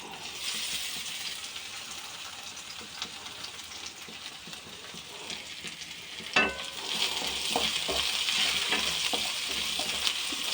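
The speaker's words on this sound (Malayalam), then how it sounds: "നമുക്ക് ഇഞ്ചി വെളുത്തുള്ളിയും ചതച്ച് ഇട്ട് കൊടുക്കാം" Crushed ginger and garlic fry in hot oil for a dry mussel fry, a steady close sizzle that swells louder after a sharp clatter midway, continuous and without voices.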